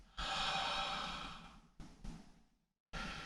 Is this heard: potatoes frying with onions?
no